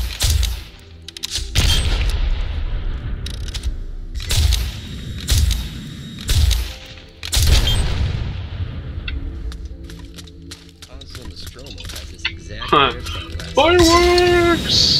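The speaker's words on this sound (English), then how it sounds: "Fireworks!" Fireworks bursting in the video game Firefall, a run of loud booming blasts spaced a second or two apart, then crackling whistles near the end, with a voice talking over them.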